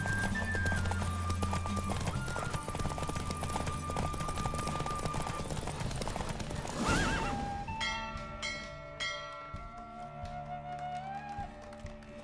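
Galloping horse in The Witcher 3 video game, hooves drumming steadily with whinnies over game music, then easing into quieter hoofbeats near the end.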